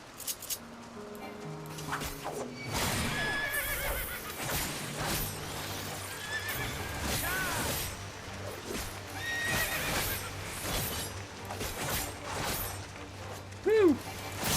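A horse neighs and whinnies while hooves clop in the video game Final Fantasy XIV, with game sounds around it and a person talking intermittently over the action.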